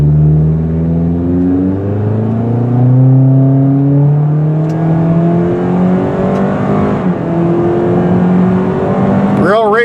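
A 2018 Toyota Corolla with sport exhaust accelerates hard from inside the cabin, its engine note climbing through the gears with rising drone and brief dips between shifts.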